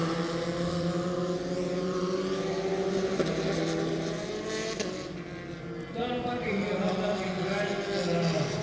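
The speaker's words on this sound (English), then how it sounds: "Here are the drivers changing through the gears using the paddle shift system on the steering wheel." Formula 4 race cars circulate a track, engines droning with steady rising and falling pitch as gears change, a continuous layered whine heard from a distance over crowd and commentary noise.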